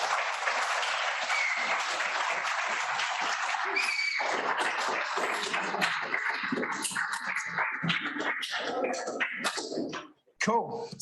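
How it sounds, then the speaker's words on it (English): An audience applauds Lani at a talk, with steady, dense clapping that becomes more scattered before dying away, and faint voices mixed in. "Round of applause again for Lani."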